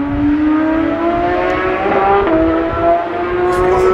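A Porsche GT3 engine howls on a race circuit, its pitch climbing through the revs with a quick gear shift partway through, loud and sustained with no talking.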